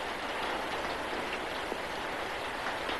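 Steady rain falling outdoors, a dense continuous hiss of drops with no break across the few seconds and no voices over it.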